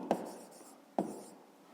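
A math solution is handwritten on paper with two short, close scratchy pen strokes, each followed by a light trailing rub, alone in a quiet room.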